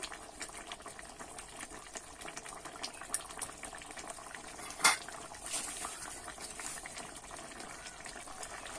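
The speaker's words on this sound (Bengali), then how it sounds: "দেখো মাছটা দিয়ে কিন্তু আমি আবার কিছুক্ষণ ফুটিয়ে নেব" Fried tangra fish simmering in a cauliflower and potato curry, a faint bubbling boil with light clinks of a pot and utensil, one brief louder knock midway.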